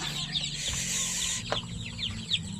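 Many small chicks peep in high, rapid overlapping chirps inside a coop, continuous and close, with low rustling and a faint hum beneath.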